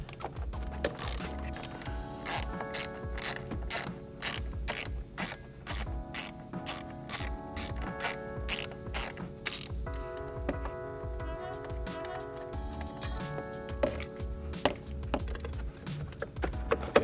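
A hand ratchet clicks steadily while loosening the 13 mm battery tray bolts on a VW/Audi MK7 GTI, Golf R, A3 or S3, with rapid close-up pawl ticks in repeated strokes and short pauses between them.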